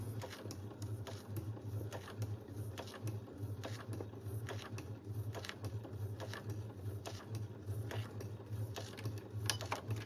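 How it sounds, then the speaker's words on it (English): A sewing machine stitches fabric with a steady, close mechanical hum and a fast clattering needle rhythm that runs throughout, with no talking. "Now I'll place my presser foot back down, and then I can continue stitching."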